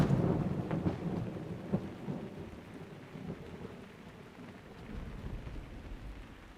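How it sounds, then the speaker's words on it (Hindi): Steady rain falls outside with rumbling thunder rolling through, a heavy low roar at the start easing into continuous patter, with no voices. "वैसे बारिश हो रही है बाहर"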